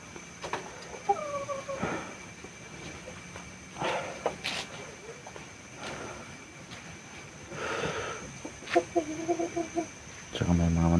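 Neighbourhood chickens cluck in short, scattered bursts around a rural hut, some close and some farther off, against a quiet outdoor background with occasional other noises.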